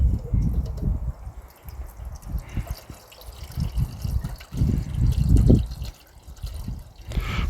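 Leftover water poured for coffee at a mountain hammock campsite, a close, steady liquid trickle and splash with soft rustling and faint background noise.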